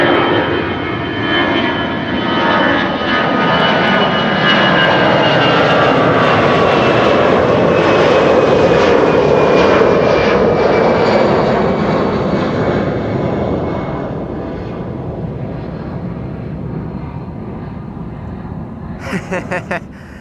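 An Air Baltic airliner taking off from a runway at Amsterdam Schiphol, its engines building to a sustained, loud roar heard from a distance that slowly fades as it departs.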